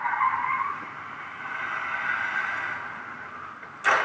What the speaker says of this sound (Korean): 불박차가 그걸 보고 브레이크 잡아보지만 부딪혔죠